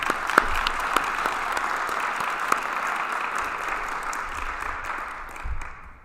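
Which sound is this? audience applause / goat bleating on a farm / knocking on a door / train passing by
audience applause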